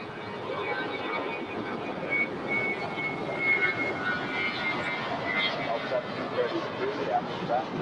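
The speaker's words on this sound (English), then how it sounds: "Next departure is American Airlines A321 on our way to Las Vegas. Flight 2578, rolling down" American Airlines Airbus A321 rolling down the runway for departure at LAX: a continuous, moderately distant jet engine roar holds steady throughout, with faint tonal whines rising near the end and air traffic radio voices over it.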